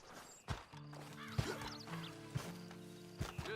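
Horse hooves clopping in the video game Red Dead Online, with occasional sharp thuds, layered over droning tones and faint animal calls in the background.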